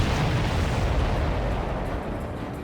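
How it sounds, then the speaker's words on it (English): A deep, sustained explosion roars during an air combat mission in Ace Combat 7: Skies Unknown, a loud, broad rumbling blast that fills the moment and slowly fades without any voices. "Did you see that explosion?"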